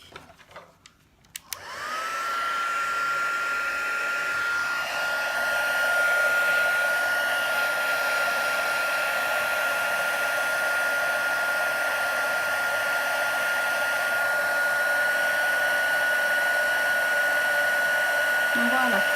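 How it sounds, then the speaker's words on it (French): After a brief click, a heat tool blows steadily close by, its even whirring airflow with a constant high whine continuing for many seconds as it melts embossing powder on a card. "je vais chauffer pour embosser"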